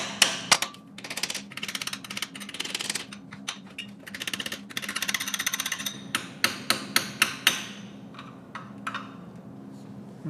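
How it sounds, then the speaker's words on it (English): A hammer taps on the fuel injectors of a 1989 Pontiac Trans Am GTA, a long run of sharp metallic knocks in quick irregular bursts, some clustered, some spaced, heard close with no talking. "Let's go hammer time on some injectors."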